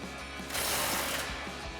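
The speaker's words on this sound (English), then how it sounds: "grab our 19 mil socket on our impact, our 19 mil wrench, and loosen these up" An impact wrench with a 19 mm socket loosens the lower control arm bolts on a Toyota 4Runner during a coil-over install, giving a loud, steady mechanical rattle that runs for about a second in the middle of the clip with quieter hum around it.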